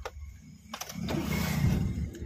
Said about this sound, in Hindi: चलो अब क्लच दबा के इंजन को स्टार्ट करो